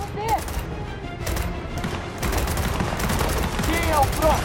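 Rapid bursts of gunfire in the video game Gears of War 4 crackle repeatedly, with sharp cracks and rattling volleys over a busy background, and faint voices mixed in.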